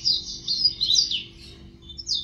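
Caged blackthroat birds give quick, high, thin chirps in short bursts, close and fairly soft against a quiet low background hum.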